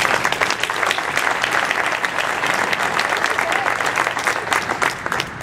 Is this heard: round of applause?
yes